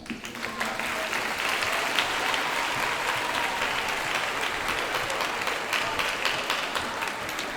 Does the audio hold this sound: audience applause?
yes